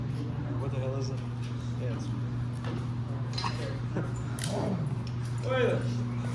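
Puppies whimpering and yipping beside a Suburban being fitted with 2.5-inch spacers, with short high yelps and whines scattered among workshop clatter and people talking over them.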